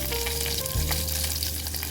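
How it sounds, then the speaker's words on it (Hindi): Onions frying in a hot tempering for sambar, a steady close sizzle with faint stirring, no talk. "यहाँ पर भी तड़का हमने डाल दिया है और अब प्याज"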